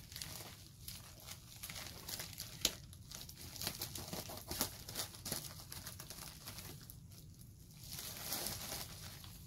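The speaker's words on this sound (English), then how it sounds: "Let me cut this open." Someone cuts open a mail package, producing soft crinkling plastic and paper rustles with small tearing noises, fairly quiet and close, without speech.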